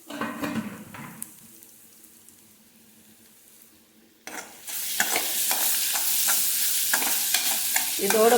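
Hot sevai being stirred in a pan for nellikai (amla) sevai: after a quiet stretch with faint clinks, a loud sizzle bursts in, and repeated scraping strokes of a spoon against the pan keep a rough rhythm.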